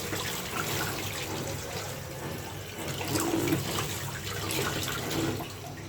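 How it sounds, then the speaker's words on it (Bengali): Tap water runs and splashes in a sink while vegetables such as pumpkin, spinach and cauliflower are rinsed, a steady close washing sound with small surges of splashing and no talking. "এখানে আমি কি কি সবজি দেব ধুয়ে নিচ্ছি।"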